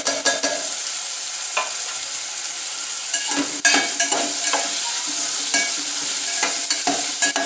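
Potatoes and cauliflower florets sizzle in hot oil with tomato and masala for a veg biryani, a steady close frying hiss broken by repeated stirring scrapes and clinks of a spoon against the pan.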